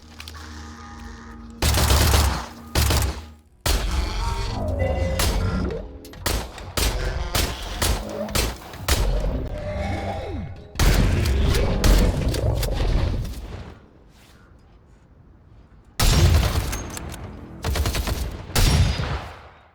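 World War II-style rifles and machine guns fire in the video game Industria: loud bursts of gunfire and booming single shots come in rapid clusters, with a brief quieter gap before a final volley.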